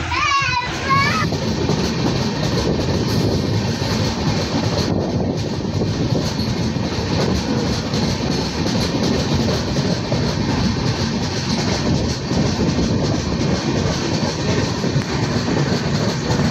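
Crowded passenger train pulling out of Sangameshwar station on the Konkan route toward Mumbai, a loud steady rumble and rattle of the carriages throughout, with children's voices and chatter inside the coach over it.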